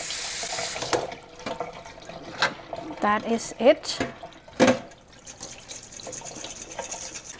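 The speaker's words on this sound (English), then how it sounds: "Rinse it so it's loose a little bit, and after you can just let it drain in the basket" Rice noodles rinsed under running tap water in a kitchen sink, with splashing and sloshing bursts in uneven pulses and a brief spoken remark over the water.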